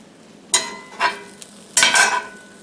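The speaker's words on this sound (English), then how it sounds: "now we flip it into the middle," An omelet flipped over onto itself in a hot pan, giving three short scraping, sizzling bursts, the last one longest, each rising sharply and fading, close by with no talking.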